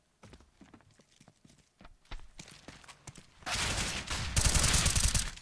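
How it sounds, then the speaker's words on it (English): Counter-Strike match gunfire on the Overpass map, with scattered sharp shots and footsteps early on that build into loud, dense bursts of rapid fire near the end. "What a second shot from Ryova."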